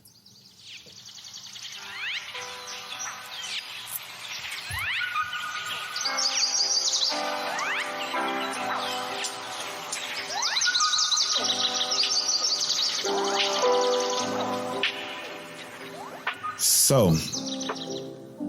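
Birds chirp and tweet in bright, busy overlapping calls, with a brief voice near the end.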